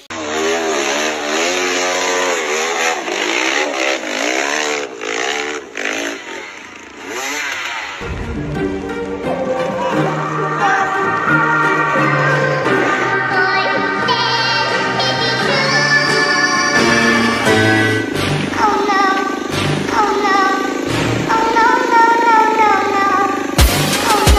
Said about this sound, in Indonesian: motor Supra Fit dengan sekali tarikan bisa melalui tanjakan-tanjakan yang sulit